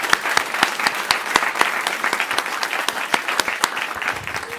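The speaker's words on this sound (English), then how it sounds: "please, please, please, a big round of applause for Anita Gadecki, who has put this on." An audience applauds at an evening speaker series event, a dense, steady patter of many hands clapping at close range, with no voices over it.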